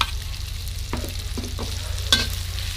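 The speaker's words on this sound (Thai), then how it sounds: "แฮมมาผัดเป็นกระเพราครับ" Ham stir-fried with holy basil in a pan, with a steady sizzle and a few distinct spatula scrapes and knocks against the pan, close and moderately loud.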